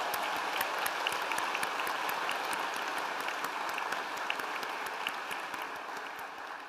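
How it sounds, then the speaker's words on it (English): Graduates at a UCL medicine graduation ceremony applaud in a steady, dense round of clapping that fills the hall, even and sustained, slowly tapering toward the end with no talk over it. "give yourselves another round of applause"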